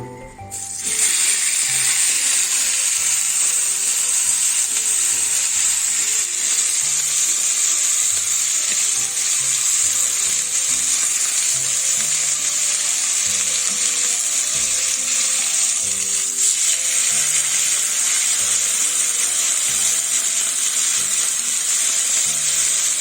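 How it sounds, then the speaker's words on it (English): Steady, loud sizzling of beef browning in a hot skillet, a constant crackling hiss that barely changes for the whole stretch. "we take it and we brown it in the skillet"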